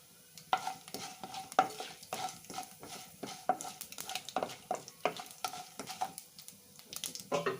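Ingredients frying in a pan for milk upma: a quiet, faint sizzle broken by frequent, irregular scrapes and clicks of a spoon stirring against the pan, close by.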